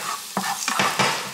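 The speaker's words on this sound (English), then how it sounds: "I'm cooking my shrimp, so I'm gonna let the garlic sizzle a little" Garlic sizzles and crackles in a hot pan with shrimp, with a few sharp stirring scrapes breaking through the steady frying hiss.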